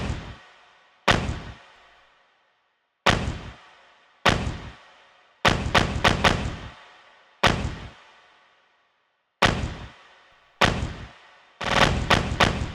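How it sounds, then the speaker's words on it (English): Deep, punchy drill kick drum made of two layered kicks, hits in a sparse, irregular pattern, each with a sharp attack and booming tail, some in quick bursts. "for the kick, I actually layered two of them together"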